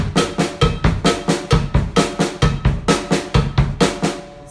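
A drum kit plays the first pattern of a drum exercise, with steady repeating bass drum and snare hits. The strokes come close and loud in an even, looping rhythm, with no voice.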